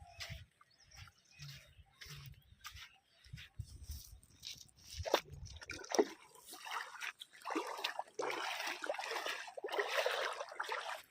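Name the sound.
river water flowing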